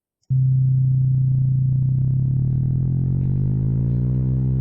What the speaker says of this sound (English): We're going up in tone, okay? And it's combining sawtooth wave, square, and sine